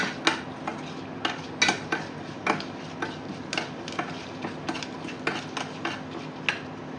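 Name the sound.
mustard seeds spluttering in hot oil tempering for sambar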